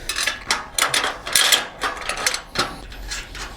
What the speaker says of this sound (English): I'll tighten this coupler right on.